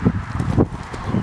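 A horse walking in a show arena gives soft, close clip-clop hoofbeats in an even four-beat rhythm over a short stretch, with faint ambient noise and no clear talk.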